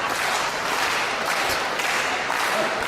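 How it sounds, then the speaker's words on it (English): A wrestling crowd at a retirement match in Canada roars and claps in a steady, loud wash of cheering and applause with no distinct voices. "The crowd getting pumped up."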